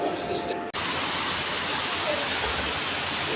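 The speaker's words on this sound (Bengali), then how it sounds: "বিশাল জোরে বৃষ্টি হচ্ছে, বিশাল জোরে।" Heavy rain pours down in a dense, steady roar of broadband hiss that holds constant throughout, with no voices heard.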